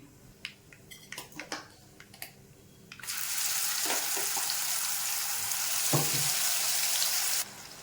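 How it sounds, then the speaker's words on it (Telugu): Onion chili paste for a coriander lunch-box dish, with curry leaves, is stirred in a pan. A few clinks and taps come first, then a loud continuous hissing sizzle that cuts off abruptly near the end. "బాగా ఉల్లికారం అనేది పచ్చివాసన పోయేంత వరకు బాగా ఇలా వేయించుకుంటూ ఉండాలి"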